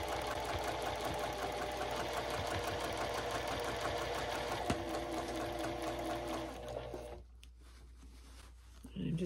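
A sewing machine stitches a French seam with a fast, steady mechanical whir and needle rattle, then stops near the end, leaving room tone before a voice returns.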